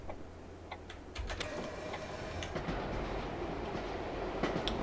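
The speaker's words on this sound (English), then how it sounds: "Looks like coming in a Dosto there." A Dosto double-deck train arrives at a station in The Bus video game, with a low steady rumble and repeated clicking rail joints over quiet ambient city noise, fairly faint.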